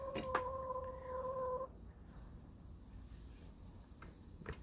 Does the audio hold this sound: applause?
no